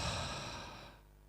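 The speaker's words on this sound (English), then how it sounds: "exhale." A single long, deep exhale released after a held breath during a guided breathing exercise, loud at first and tapering off into quiet, heard close with no talk.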